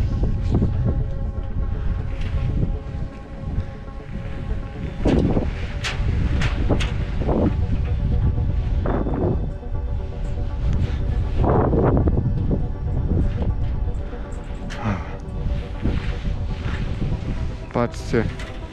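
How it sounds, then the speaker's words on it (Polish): Strong wind buffets the microphone atop the Bagger 258 giant excavator, rushing loudly and continuously with gusting peaks, while someone talks over it throughout. "Wiatraku, nie wiej tak."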